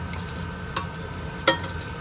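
Diced guanciale crisping in a hot pan for pasta carbonara, a steady close sizzle with a couple of sharper pops and crackles, no voices.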